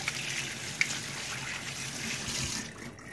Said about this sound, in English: Let me just wash those hands off again.